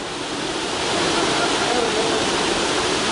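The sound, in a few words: underground river flowing in a cave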